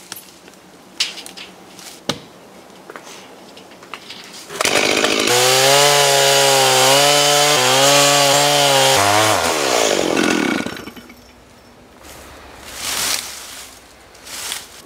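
Chainsaw cutting a log to length at a sawmill, a few scattered knocks and handling sounds, then a loud, steady engine whine while cutting for several seconds before dropping back to quieter idling and handling noises.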